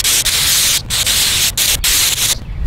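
A paint spray gun lays down field lines on a lawn, giving a loud, steady hiss of spraying broken by a few brief pauses, with no talking.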